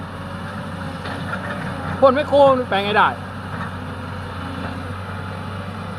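A farm tractor's engine drones at a steady low idle while it pushes a stuck six-wheel truck from behind, with someone speaking briefly over the rumble midway.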